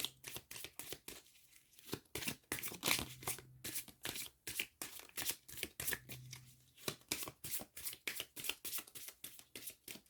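Oracle cards being shuffled by hand close up, a steady run of soft riffling slaps and papery flutters in a quick, uneven rhythm, quiet and without speech.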